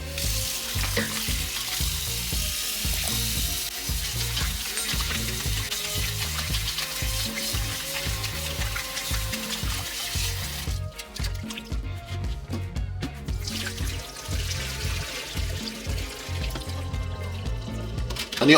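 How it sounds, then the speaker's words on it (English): Steak pieces rinsed under a running kitchen tap, a steady loud rush of water splashing into a sink with shifting splatter as the meat is moved, close up and continuous, with no talking. "And then you want to wash it off with some tap water."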